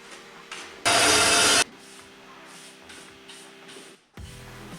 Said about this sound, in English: Now I'm just going to cut corner gussets out of the straps.